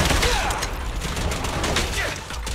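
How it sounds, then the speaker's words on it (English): Rapid bursts of gunfire from the video game Zenless Zone Zero, a dense, continuous crackle of shots with some mechanical clatter, loud and up close. "Keep shooting."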